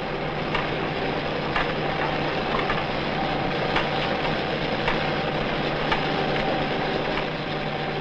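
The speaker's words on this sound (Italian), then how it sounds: "Il rumore è assordante fra le pareti metalliche. Motori, gruppi generatori, distillatori, distribuiti su 2 piani, danno la vita alla nave" Ship engines and generator sets roar inside a metal hull, a loud, unbroken, droning mechanical din with faint rattles and knocks throughout and no voices.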